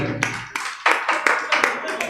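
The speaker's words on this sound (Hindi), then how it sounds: "जोरदार तालियां बजाइए पहले आप लोग।" An audience at a poetry gathering claps in short, uneven bursts, close and fairly loud, with voices mixed in.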